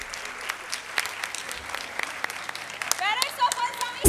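Audience at a school mega event session applauding, scattered claps building into fuller clapping toward the end, with a voice speaking over it.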